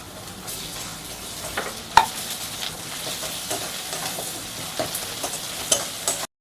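Chopped onion and garlic paste fry in a pan with a steady, close sizzle and hiss, broken by occasional sharp clinks and scrapes of stirring.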